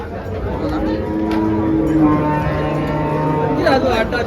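A pregnant dairy cow at a cattle market moos with a long, drawn-out call close by, with a farmyard murmur and faint voices in the background.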